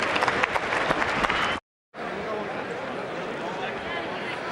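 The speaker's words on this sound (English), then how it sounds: "Crowd building up all the time here at the MGM" Crowd noise at a boxing fight at the MGM, a loud roar and clapping that cut out briefly, then resume as a steady, softer crowd murmur.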